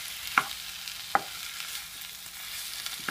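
Mushroom gravy with tomatoes sautéing in a pan, a soft steady sizzle with a few sharp spoon scrapes and clinks spaced through it.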